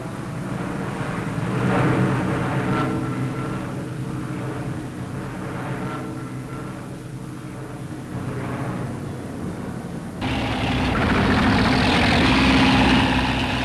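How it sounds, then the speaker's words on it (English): Rocket-firing Hawker Typhoon aircraft in action over Normandy in 1944, a sustained rumbling engine drone, fairly loud, that swells and shifts before turning harsher and denser toward the end. "Time and time again, the army called on rocket-firing Typhoons to deal with them. Here are some on the job."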